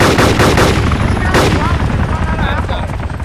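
Gunfire in the DayZ Overpoch video game, a loud, dense burst of rapid shots over a continuous helicopter-like roar, with bright sharp transients packed through the first second and a half before thinning out.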